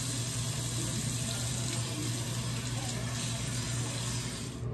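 Tap water running steadily into a sink while blue dye is rinsed out of a boy's hair, a continuous close splashing rush with no breaks.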